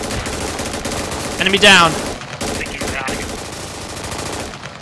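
Gunfire in the Squad video game in the Kohat Toi river valley, sustained automatic bursts rattling continuously and loudly while a voice speaks over the shooting.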